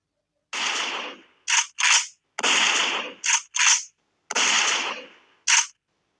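Loud, close gunshot effects ring out in an irregular burst of eight sharp reports with brief tails, standing alone against silence.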